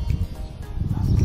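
Strong wind blows outdoors in a steady low rumbling roar that swells toward the end, loud and close.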